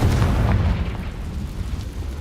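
A Confringo fire spell in the video game Hogwarts Legacy bursts into a deep, rumbling explosion that stays heavy and booming, then rolls on without fading for the brief moment heard.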